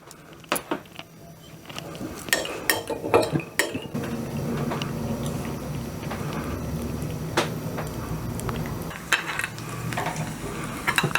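Sizzling of cashews frying in ghee in a small pan, with repeated metal clinks and scrapes of a spoon stirring, close and busy throughout.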